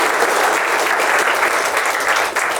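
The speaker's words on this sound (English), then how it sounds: "nice round of applause for yourself for being such a nice speaker" Dense, loud applause from a standup comedy show audience, a steady wash of many hands clapping that holds evenly throughout before easing slightly at the end.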